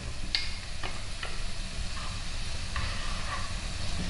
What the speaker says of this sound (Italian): facciamo stufare la cipolla a fiamma moderata, dopo 3-4 minuti ci mettiamo lo speck